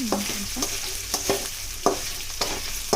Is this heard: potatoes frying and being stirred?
yes